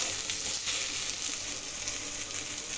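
Chopped tomato hits hot oil in a pan for a spicy rohu fish curry, giving a steady, close, loud broadband sizzle that holds evenly throughout with no talking.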